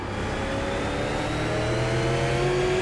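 Super late model race car engine in iRacing at Martinsville Speedway, revving steadily and loudly under throttle with a rising pitch, close and continuous throughout.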